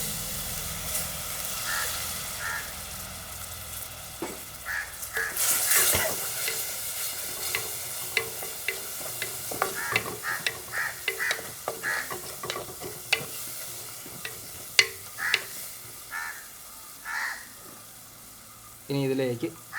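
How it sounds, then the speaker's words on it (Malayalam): Vinegar goes into a hot pan for chambakka pickle, hissing briefly before scattered stirring scrapes and soft sizzles continue at close range, with a clatter near the end. "ഇനി ഇതിലേക്ക് വിനാഗിരി ഒഴിച്ചു കൊടുക്കുക."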